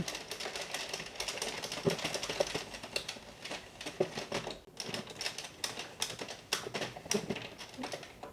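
Addi King or Sentro 48 plastic circular knitting machine cranked through rows, giving a steady, dense clatter of rapid clicking needles that runs continuously with only a brief pause midway.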